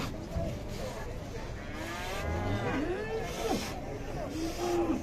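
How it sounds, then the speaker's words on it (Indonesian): An enraged cow bellows several times with long, wavering moos as it comes down off a truck, loud and close, while people talk and shout around it. "Terlalu kesetanan ini sapi"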